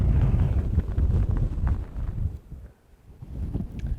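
Wind gusting outdoors on a Nebraska deer hunt, buffeting the microphone with loud rumbling bursts that briefly drop off before picking up again.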